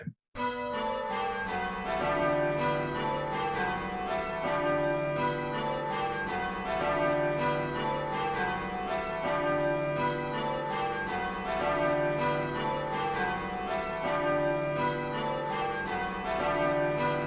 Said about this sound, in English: seeing if we can adjust the striking and work out which bells are wrong